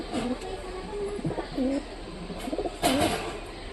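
Newly bought Giribaz pigeons coo in soft, repeated throaty phrases at close range, several short bursts with a louder one near the end, over faint background noise.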